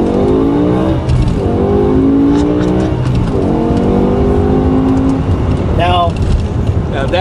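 A BMW E60 M5's F1-inspired V10 revs hard and climbs through the gears with a rising, shrieking wail, loud and close from inside the car, with a voice speaking briefly over the engine.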